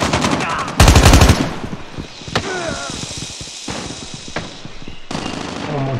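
Automatic gunfire rattles in the Call of Duty Mobile video game. Rapid machine-gun bursts come loud and close at the start, followed by scattered single shots and another burst, with faint game voices in between.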